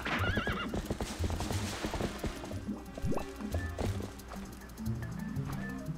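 Epona, the horse in Zelda: Twilight Princess HD, gives a loud neigh, then hooves clip-clop in game audio with rustles and clanks, close and clear.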